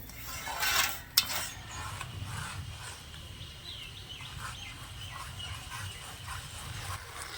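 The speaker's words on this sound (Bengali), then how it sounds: "এবারে চিনিটা নেড়ে ছেড়ে গলিয়ে নেব আর চিনির রসটা একটু ফুটিয়ে নেব" Sugar and water syrup with cardamom stirred and simmered in a pan: a sharp metallic clink early on, then soft, steady scraping and low bubbling, with no voices.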